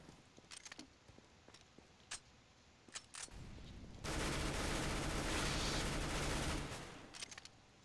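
Gunfire in the video game CS GO: scattered single shots and short bursts at first, then a sustained loud automatic burst lasting several seconds, followed by a few more sharp shots.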